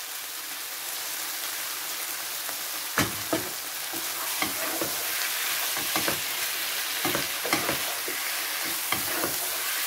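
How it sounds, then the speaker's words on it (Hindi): Potato pieces with fenugreek and salt sizzle in a pan for aloo ki varkiyan, a dense rain-like hiss that runs throughout, joined after a few seconds by irregular spatula clinks and scrapes, close and without talk. "बस अब हम इसको इसके साथ थोड़ा सा भूनेंगे ताकि इसकी अच्छी सी भुनाई हो जाए।"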